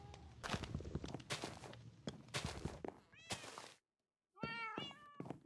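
In Minecraft, a cat meows several times amid soft thumping steps, then after a brief silent gap lets out more clear, close meows.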